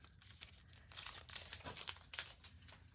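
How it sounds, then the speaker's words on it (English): Masking tape peeling off a handmade stamped paper card, a close, bursty ripping and crinkling that rises and falls over a few seconds with no talking. "I'm going to go ahead and take the masking tape off"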